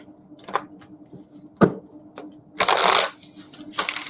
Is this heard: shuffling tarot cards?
yes